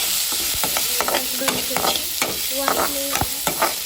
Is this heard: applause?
no